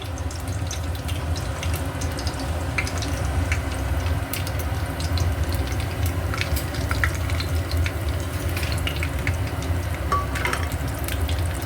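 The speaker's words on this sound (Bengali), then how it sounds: "এবার আমি এর মধ্যে তেজপাতা গোটা জিরে ফোড়ন আর গরম মশলাটা ফোড়ন দিয়ে দিলাম" Bay leaves, whole cumin and garam masala sizzle in hot oil for a Bengali chicken and potato curry, a steady, loud, close frying hiss with faint stirring, heard alone without talk.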